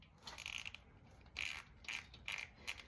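A hand ratchet snugs the oil drain plug on a cheap Chinese SSR110 pit bike, producing several quiet bursts of rapid metallic clicking close by, separated by brief pauses.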